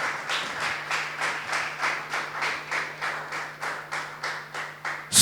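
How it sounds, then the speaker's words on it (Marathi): Rhythmic hand clapping from a church congregation at a New Year service, evenly spaced beats in unison, about three per second, moderately loud with a low background hum. "यूट्यूबवर पाहत असणारे लोक सुद्धा टाळ्या वाजवतील."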